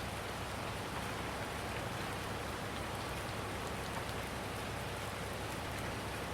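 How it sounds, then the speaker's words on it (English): Steady rain falls in the farming video game Farming Simulator 19, a dense, even, continuous patter held at a soft level throughout, with no voices. "Alright, it is raining."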